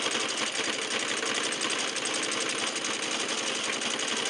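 Sewing machine running steadily for free motion quilting, a dense continuous mechanical whir with a fast stitching rhythm throughout, close and fairly loud with no talk.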